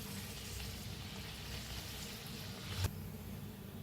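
Carrot puris deep-frying in hot oil, a steady, even sizzle and bubbling throughout, moderately quiet, with one soft clink near the end.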